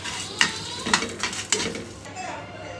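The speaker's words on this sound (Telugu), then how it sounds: "అల్లం అనేది ఇది పచ్చి వాసన పోయేంత వరకు వేయించుకోవాలి." Ginger sizzles gently in a pan over a low flame while a spoon stirs it, with three or four distinct scrapes against the pan above a steady frying hiss.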